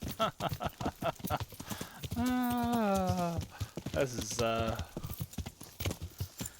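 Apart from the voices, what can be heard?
horse hooves galloping in video game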